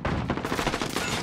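Gunfire from a Call of Duty: Modern Warfare match, a dense burst of rapid, overlapping shots that fills the clip loudly and continuously, with no voices over it.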